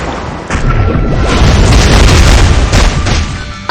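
Luluca's ultimate attack animation in the Epic Seven video game, a loud booming blast with crackling, rumbling energy that builds and sustains for several seconds before cutting off, no speech.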